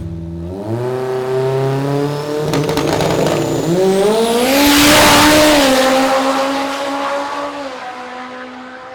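Mitsubishi Evo drag car with a 4G63 engine at a Thailand drag race, its engine revving and climbing through gears as it launches and accelerates hard down the strip, loud and close with a broad roar swelling mid-run.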